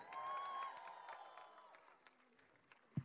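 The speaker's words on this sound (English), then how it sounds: "Some more applause, please." A university crowd of students applauding, the clapping loud at first and then thinning and fading, scattered claps standing out near the end, with a sharp thump just before it stops.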